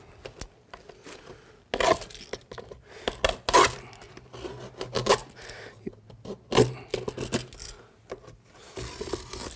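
A deburring tool scrapes along the outside and inner edges of a trimmed lateral support for a Ride Custom Back wheelchair seat, a series of sharp, irregular scraping and clicking strokes, close and separated by quiet pauses.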